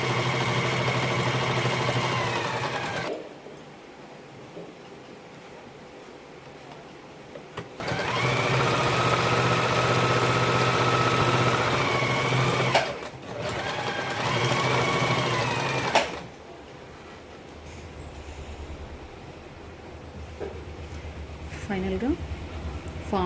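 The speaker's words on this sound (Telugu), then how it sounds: "సో ఇదే విధంగా ఇటు సైడ్ కూడా స్టిచ్ చేద్దామండి" Sewing machine stitching a saree fall in long continuous runs, loud and steady, separated by pauses, with someone talking in between the bursts.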